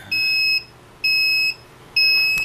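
Three long, steady electronic beeps from a 16x20-inch heat press machine, each lasting about half a second with short pauses between, high-pitched and clear against a quiet background.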